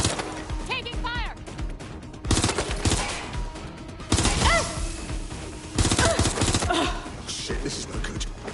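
Video game gunfire erupts in several heavy bursts of rapid shots with smashing impacts, loud and close, separated by brief gaps where voices and radio-like chatter come through.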